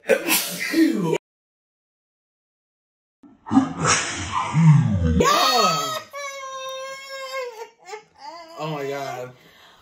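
A person sneezes after a lemon lime hot sauce and salt challenge: a sharp nasal burst, a pause, then a forceful close-up sneeze that trails into strained, whimpering vocal sounds.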